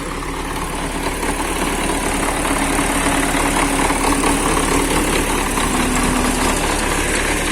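A YuMZ-6 tractor engine runs steadily nearby, a loud continuous rumble with rattling vibration throughout.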